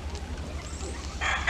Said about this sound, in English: He's a rooster and he's full grown.